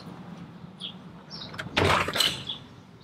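A door is pulled open in a bug-infested room, a short scrape and rattle rising sharply then fading, preceded by faint squeaks and small handling noises.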